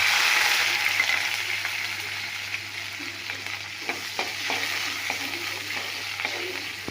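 Onions sizzling and frying in a pan with garlic and curry leaves, a steady hiss with irregular scraping stir clicks from a spoon, close and alone without talk.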